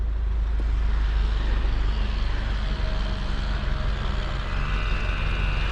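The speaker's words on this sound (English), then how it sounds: "Sounds like a boxer engine." A 2022 Subaru WRX with a turbocharged 2.4-liter boxer four and six-speed manual runs on a wet Road America track, a loud, steady low engine drone with road and wind roar throughout.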